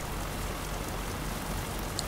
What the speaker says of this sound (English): this rain is definitely not going to stop